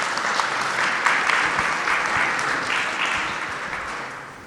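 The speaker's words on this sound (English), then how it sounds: "So please all have a bit of applause for Luis, Jean, and Rochelle." Conference audience claps for a Kubernetes CSI panel, a steady, fairly loud round of applause that slowly fades over a few seconds with no talk over it.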